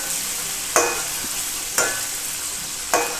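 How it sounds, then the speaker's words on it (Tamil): Marinated tofu and tempeh deep-fry in hot oil with a steady, close sizzle. Three short clatters of stirring or turning break through it at regular intervals, with no voices. "தவும் தெம்பேயும், அதை வந்து இப்போ ஃப்ரை பண்ணிட்டு டீப் ஃப்ரை பண்ணிகிட்ருக்கோம்"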